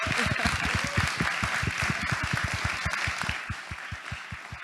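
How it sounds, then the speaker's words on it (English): An audience at a music conference applauds after a final panel, with close, rhythmic clapping that starts dense and thins out toward the end. "Can we all give Dan the biggest round of applause,"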